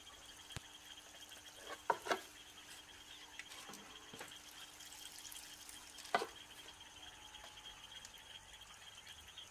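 Water draining through the drainage system in a DIY display-cabinet terrarium's back wall: quiet, sparse drips and small gurgles over a faint background, a few slightly louder plinks standing out.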